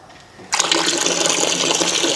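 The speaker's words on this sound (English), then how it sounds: "Let's add this in the bucket." Water gushes into a bucket being filled for a rinseless car wash, a sudden strong rushing pour that starts after a quiet half-second and continues steadily up close.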